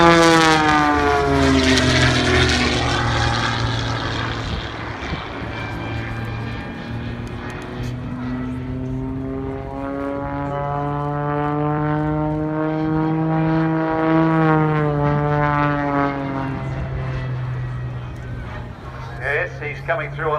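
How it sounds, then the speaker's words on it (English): Propeller aircraft flying a knife-edge pass at an air show on the Central Coast, its engine drone rising and sweeping in a steady, loud pass, while an announcer speaks over it throughout. "He's coming through on the knife edge pass."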